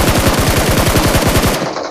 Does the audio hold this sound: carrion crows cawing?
no